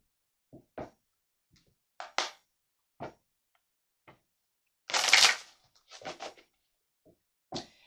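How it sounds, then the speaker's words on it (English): Tarot cards being shuffled up close in short, separate bursts of riffling and slapping, with quiet gaps between them and one longer flurry near the middle. "let's go ahead and shuffle these again as well"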